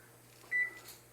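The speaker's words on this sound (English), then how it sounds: "Did that stop the beeping?" A short, clear electronic beep from a microwave oven in a home kitchen, sounding once as a steady tone over a low hum, with faint rustling afterward.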